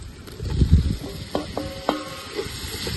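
Tomatoes and green chilies fry in a pan during outdoor cooking in the rain, a steady hiss and sizzle broken by a few scraping stirs, close and alone without voices.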